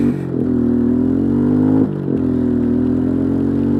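A Bombardier Traxter 500 ATV engine drones steadily and close, accelerating and then dipping briefly at each gear change as it shifts up from first in high range, with no talking over it.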